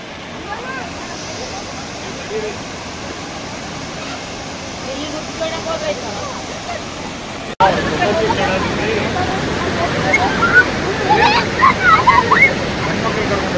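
Sathodi Waterfalls pour with a constant broad roar, a dense rushing wash that steps louder and closer midway, with faint voices murmuring beneath.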